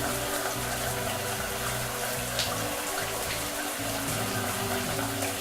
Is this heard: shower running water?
yes